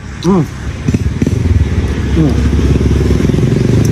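Motorcycle engines rumble past close by, steady and loud, with people talking over the traffic noise.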